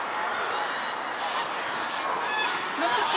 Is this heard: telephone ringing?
no